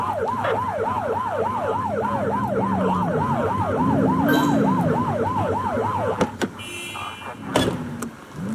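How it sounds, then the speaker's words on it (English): Police car siren in the video game The Precinct, a loud close wailing yelp cycling rapidly and evenly before cutting off, then a few scattered in-game thumps and clicks. "Get behind them and flip the siren to make them pull over."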